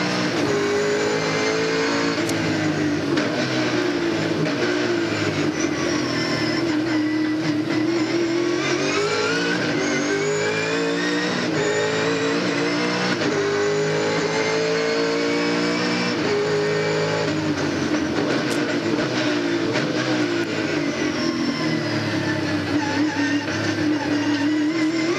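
Onboard a V8 Supercar racing the Canberra 400 street circuit in the 2000 Shell Championship Series, with John Bowe driving: a loud, continuous engine roar rising and falling through gear changes and throttle, close and steady throughout with no talk.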